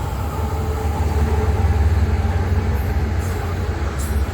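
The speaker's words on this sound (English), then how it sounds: "So you're just seeing that train pass" A train passing close by near a hill, a loud steady rumble with rolling wheel noise that holds through the whole stretch.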